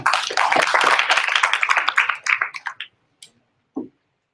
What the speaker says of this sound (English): So please give applause to Pak Sony.